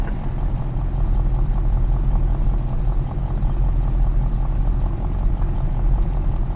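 A truck engine idles steadily while warming up in Farming Simulator 22, a loud continuous low rumble with faint clatter and no talking.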